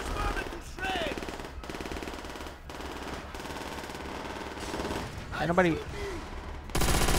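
Machine gun fire in the World War II shooter Call of Duty: World at War: bursts of rapid automatic shots with short pauses, mixed with game effects, and a voice speaks briefly over the gunfire.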